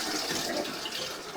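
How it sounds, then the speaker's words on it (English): Water drains steadily through a sewer pipe toward the lateral during a sewer scope inspection, a continuous broadband rushing wash that stays fairly even and close throughout, with no voices. "everything is draining out of the pipe pretty nicely"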